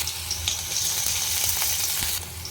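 Chopped ginger and garlic fry in hot oil with a pinch of sugar for a lady's finger dish, making a close, bright, continuous sizzle with a few stirring scrapes.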